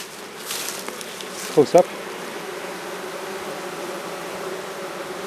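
Honeybees buzz steadily around a beehive with bearding at the entrance, a dense continuous drone heard up close, with a few brief louder knocks and a person briefly speaking.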